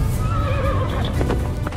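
A magnificent black stallion from a narrated Greek myth whinnies loudly, its wavering neigh rising and falling over steady hoof clip-clop and a dense dramatic backdrop.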